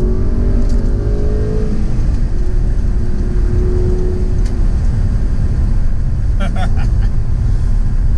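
A 2011 Audi R8 Spyder pulling hard under acceleration: loud, close engine tone rising and then settling into a steady drone over heavy road rumble, with a brief excited voice breaking in near the end.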